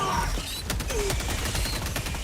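Rapid automatic fire from the Tenderizer assault rifle in Helldivers 2, a steady close stream of shots mixed with battle noise.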